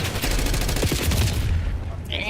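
Rapid automatic gunfire in a Call of Duty multiplayer match, dense bursts of shots layered close and loud over a busy game mix for about two seconds, with a high electronic tone near the end.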